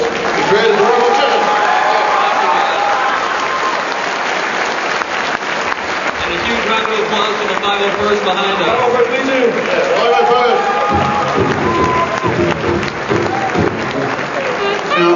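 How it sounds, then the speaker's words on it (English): A convention crowd breaks into loud, sustained applause for the creators of Robot Chicken that claps on steadily, with a voice briefly heard over it. "if I can have a huge round of applause"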